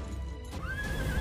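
A fire blood dragon horse lets out a single rising whinny, clear and fairly close, that wavers for about a second, with soft hoof clatter beneath.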